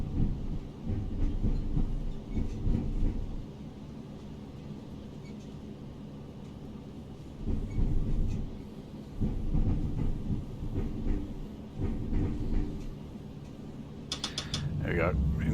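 A Class 153 diesel unit pulls out of a station in Train Simulator Classic, its engine rumbling low while clunks and creaks come and go, louder swells of rumble in bursts, and a few sharp clicks near the end.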